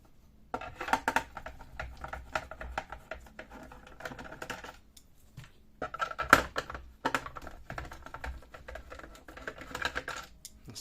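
Screws being unscrewed from the casing of an Eaton 5E650 UPS, a series of small irregular metallic clicks and scrapes as a screwdriver turns, close up, with brief pauses between them.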